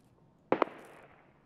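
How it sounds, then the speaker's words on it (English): A thrown grenade in the shooter game SPT detonates with a short double crack and a fading rumble, loud and close, with no talk over it. "I'm gonna chuck the nade up there."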